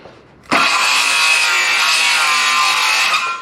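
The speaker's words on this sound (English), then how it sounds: "You have to overcut a little bit because the saw doesn't cut through the same depth on the bottom because it's a circle." A circular saw bites into a wooden rafter, a loud abrupt cut that starts sharply after a quiet moment and holds a steady high whine for about three seconds before easing off slightly.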